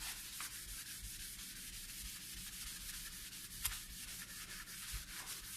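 A sponge scrubbing a sink with pierre d'argent cleaning stone, a continuous close rasping rub with rhythmic back-and-forth strokes and occasional soft knocks, with no talk.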